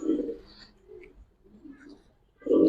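A racer pigeon coos in soft, low throaty phrases, close by, at the start and again at the end, with faint background sounds between.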